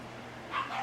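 A small dog gives a brief, fairly close pair of yips or barks indoors, lasting under a second.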